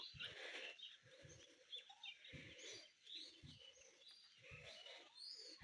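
A small yellow and black bird calls outdoors in the morning, giving faint, repeated chirps over quiet background rustling and soft low thumps.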